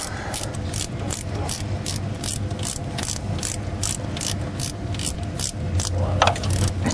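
An 11/16 ratchet wrench runs a nut down on a diesel injector sleeve puller for a 6.0 Powerstroke, giving rapid, steady clicking strokes close up over a low background hum.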